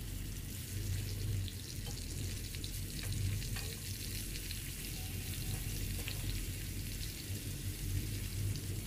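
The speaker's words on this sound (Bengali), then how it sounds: "কচুগুলো এক পাশটা হয়ে গেলে অপর পাশটা একটু উল্টে দিচ্ছি, যাতে করে দুই পাশটা খুব সুন্দরভাবে ভাজা হয়ে যায়।" Pieces of taro fry in hot oil, giving a steady, close crackling sizzle with a few soft clicks as the pieces are turned over; no one speaks.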